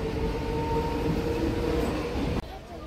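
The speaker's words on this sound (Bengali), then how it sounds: "বাজে রাত 8টায় বগুলা থেকে ট্রেন ছাড়লো" A local train pulling out of Bagula station at night, a steady low rolling rumble with faint wheel noise that cuts off abruptly near the end.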